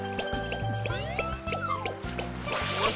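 Water spraying onto a plant in the video game Super Mario Sunshine, heard as wet dripping and squishing splashes over looping game music, steady and fairly close.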